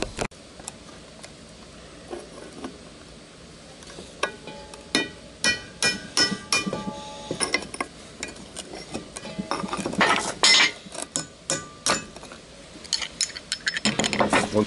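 Sharp metallic clicks and clinks from working truck U-joint snap rings loose with tools, close and irregular at first, then coming in quicker bursts of ticking taps.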